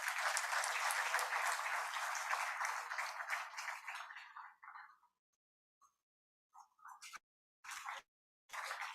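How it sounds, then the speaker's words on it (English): Loud crowd applause at a university ceremony that fades away over a few seconds, followed by silence and a few short bursts of clapping. "A big round of applause, please."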